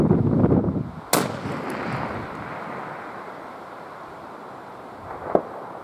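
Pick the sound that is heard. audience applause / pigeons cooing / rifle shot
rifle shot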